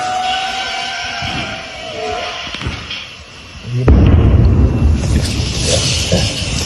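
A sudden loud drone explosion erupts midway, followed by a broad rumbling roar of debris and wind after a quieter stretch of distant noise.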